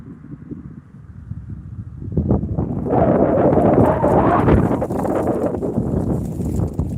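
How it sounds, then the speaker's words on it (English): Strong outdoor wind buffets the microphone at a fishing spot, a low rumbling roar that swells louder after a couple of seconds and stays heavy and close, with no clear voices over it. "Man, that wind's strong."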